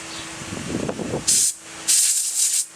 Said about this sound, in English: my compressed air will help me get some of the dirt that had accumulated in some of these